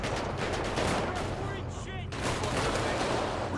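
Dense, continuous gunfire fills a GTA 5 police gang-unit shootout, rapid shots overlapping into a loud fusillade with a brief lull midway, while voices talk underneath.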